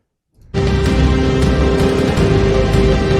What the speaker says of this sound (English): so right here you can see we have a filter sweep.